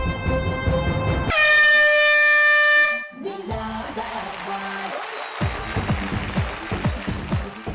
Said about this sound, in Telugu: మ్యూజిక్ ఆన్ అవుతుంది, హార్న్ వస్తుంది.